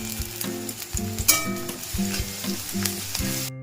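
Chopped garlic added to frying onions in hot oil for Bengali chicken stew, crackling sizzle with repeated stirring scrapes and a brief clatter of a utensil, close and without speech.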